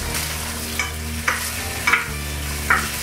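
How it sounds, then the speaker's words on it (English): Shrimp sizzle steadily in a hot sauté pan while a utensil scrapes and stirs a few times, with no one speaking. "we're gonna add the shrimp to the saute pan. Get a nice sizzle going here."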